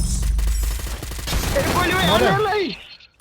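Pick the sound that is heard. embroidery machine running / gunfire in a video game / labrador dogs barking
gunfire in a video game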